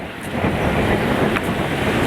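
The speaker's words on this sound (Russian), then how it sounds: "Ветер дует, флаги раздувает." Steady, loud hurricane-force wind roaring and buffeting close to the microphone on the coast at Gelendzhik, a continuous broadband rush with no voices.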